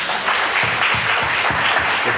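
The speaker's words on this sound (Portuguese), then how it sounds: "Aplauda o Senhor Jesus." A church congregation applauding at an evangelical service, a steady dense wash of clapping with some rhythmic hand beats underneath, loud and close, no voices standing out.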